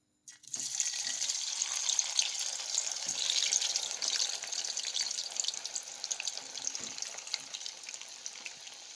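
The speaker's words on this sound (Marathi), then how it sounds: "आता मी यात मुटकुळे तळून घेणार आहे." Coriander mutkule fry in hot oil in a kadhai over low heat. The bubbling sizzle starts suddenly and holds steady and close, with light crackles and no talk.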